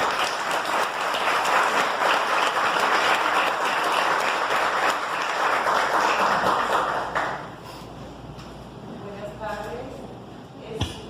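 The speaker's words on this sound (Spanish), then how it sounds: "Estamos en un fuerte y cálido aplauso" An audience applauds with dense, sustained clapping that fades out after several seconds, followed by a person beginning to speak.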